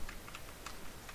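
A computer keyboard tapped for a second while entering code, giving a few quiet, quick keystrokes against a soft background hiss.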